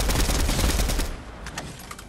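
Rapid gunfire from a powerful gun in a battle royale video game, a dense burst of shots that tapers off over about two seconds, loud and close.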